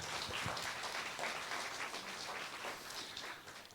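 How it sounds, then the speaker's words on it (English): An audience of Year 12 students claps in a round of applause, a steady soft patter of many hands, moderately distant and fairly faint. "So a round of applause"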